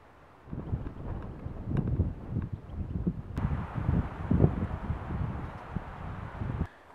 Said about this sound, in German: Es geht auch ein ganz schöner Wind hier.